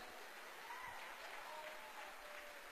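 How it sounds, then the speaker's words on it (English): An audience at a Jeunesse leadership conference in Las Vegas gives steady, dense applause, a continuous wash of clapping heard from a distance and fairly faint. "give yourself a big round of applause for making that choice."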